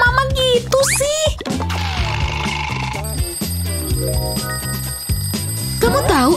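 An alarm rings in a household scene amid a busy mix of cartoonish tones, bell-like chimes and pitched sweeps, with a voice briefly heard near the end.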